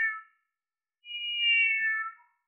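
A human voice imitates a cat's mew, a short high whine followed by a longer drawn-out mewing cry, heard alone on an old 1920 recording.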